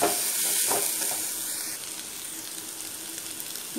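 Salted boiled peanuts and potatoes sizzle and hiss steadily in a hot pan while being stirred, a faint continuous frying sound with a few soft scraping touches early on.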